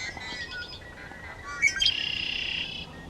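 A red-winged blackbird calls with a few short chirps and then a sharp, buzzy rattling trill that holds for about a second, fairly close and clear.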